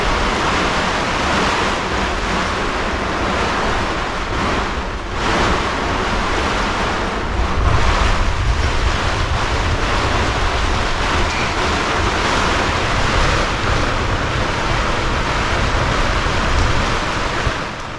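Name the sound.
wind and waves on the water, wind noise on microphone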